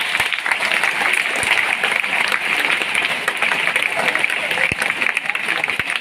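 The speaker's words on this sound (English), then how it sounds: "Give a big clap." A school audience claps for a student writer, steady dense applause across the whole stretch with a few sharper claps standing out and a faint murmur of voices underneath.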